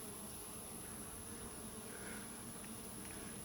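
Bees and a bumblebee buzz around an open, non-food-safe bucket of honey, a steady, faint insect drone with a constant background hiss and no talking.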